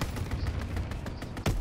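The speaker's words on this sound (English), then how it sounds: "Anti-aircraft burst." Anti-aircraft burst gunfire in Call of Duty WW2, a rapid fusillade of distant thuds and booms packed together, with a heavier blast near the end, no talk.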